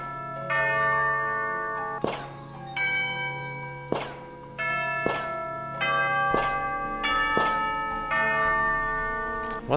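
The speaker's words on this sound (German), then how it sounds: "Oh Mann, wieder so ein Glockending" Repeated church bell strikes from the video game Master Reboot, about six loud, evenly spaced clangs, each ringing out with long sustained overtones that overlap the next.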